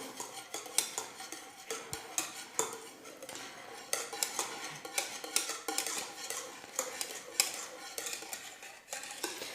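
A spoon clinks and scrapes steadily against a bowl while stirring an orange juice dessert cream mixture, a continuous rhythmic clatter of utensil on dish with no talking.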